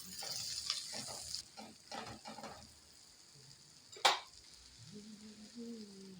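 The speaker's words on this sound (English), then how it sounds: "I'll reduce the oil then. I'll go in with some onions." Onions sizzling in hot oil left over from frying fish for a pepper stew, a soft frying hiss with a few stirring scrapes, then a sharp clatter and quieter sizzling.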